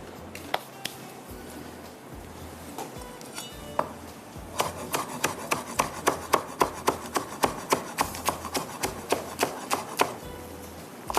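A knife finely chops green onion, capsicum and coriander on a board, with scattered cuts at first settling into a fast, even run of close, crisp strokes.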